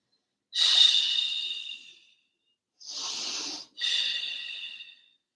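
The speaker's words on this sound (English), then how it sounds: "2 more breaths in this twist" Breathing during a seated yoga twist: a long, airy exhale, a pause, then two more hissing breaths in quick succession, close and clear with no talk.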